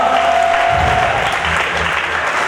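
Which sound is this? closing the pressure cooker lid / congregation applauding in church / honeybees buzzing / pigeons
congregation applauding in church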